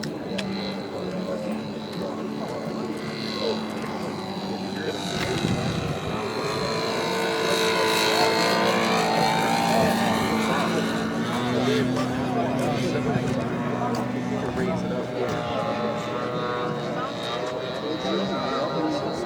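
Model airplane engines run at a Golden Age warbirds and classics flying event, a buzzing, droning whine that swells and shifts in pitch under an announcer's voice and crowd noise.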